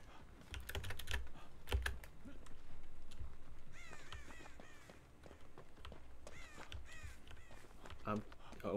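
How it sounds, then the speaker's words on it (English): Crows caw in the Dead by Daylight video game, a quick run of harsh, repeated calls rising from the middle of the stretch, mixed with rapid computer keyboard typing, footsteps and bursts of talk. "Alerting all the crows."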